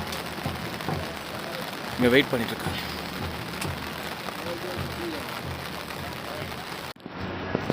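Steady rain falling along the mountain trek route to Kedarnath, a constant hiss under someone talking, with a brief louder patch before it cuts off abruptly near the end.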